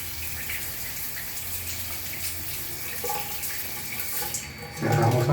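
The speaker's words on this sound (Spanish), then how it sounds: "Observen la ducha." Water runs steadily from a shower in a home plumbing setup, a continuous hiss and splash that swells louder near the end as the flow changes, with a faint voice briefly present.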